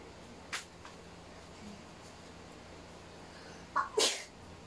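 A single sharp sneeze bursts out near the end, preceded by a short intake of breath, against quiet room noise.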